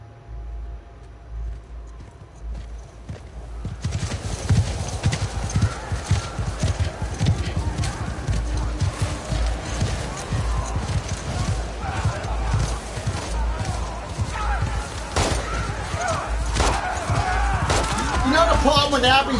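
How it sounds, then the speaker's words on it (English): A horse from The Last of Us on PS4 clip-clops at a steady gait, its hooves loud and close, with a whinny near the end and game voices talking over the riding. "Riding on Joel's horse."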